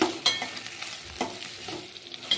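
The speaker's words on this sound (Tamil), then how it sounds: "இறாலை எடுத்து நல்லா இந்த எண்ணெயிலேயே வதக்கிட்டு" Prawns frying in oil with chopped tomato, a soft continuous sizzle broken by a few sharp stirring scrapes, heard close and alone.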